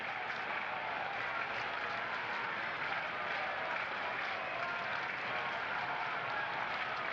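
A baseball crowd at Kauffman Stadium on Father's Day applauds and cheers, a steady, distant wash of clapping and crowd noise that holds evenly throughout.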